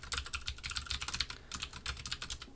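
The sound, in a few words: typing on a computer keyboard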